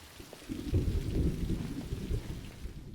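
Steady rain pours during a summer thunderstorm at night, with low rolling thunder rumbling continuously underneath, fairly close and loud without pause.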